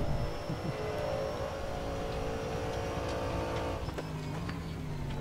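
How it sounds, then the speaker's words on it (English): A loud, continuous video game GT race car engine drones at high revs, stuttering against the rev limiter, with a brief burst of sharper crackles near the end. "Everybody likes to listen to the noise of it bouncing off a rev limiter."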